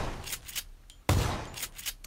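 A shotgun blast in the Xbox One version of PUBG, one loud sudden boom midway that follows a few fainter in-game shots and ambient noise.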